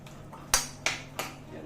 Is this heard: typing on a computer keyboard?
no